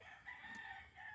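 A fighting rooster crows faintly in the distance over a steady background hiss on a farm, no voices present.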